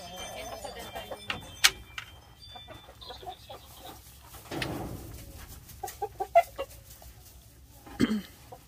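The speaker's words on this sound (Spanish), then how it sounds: "Esto es otro gallo bien bueno también." Fighting roosters cluck and stir in short, scattered bursts, with a few louder calls and rustles standing out against a quiet yard.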